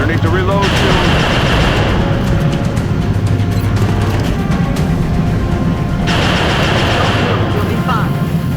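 Rapid automatic gunfire in a shooter video game blasts loudly and almost without a break, layered with game effects and a low engine-like rumble.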